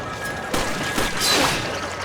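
Gunfire in Resident Evil 5, a few sharp shots and a crashing burst over a dense, loud game soundscape within about two seconds.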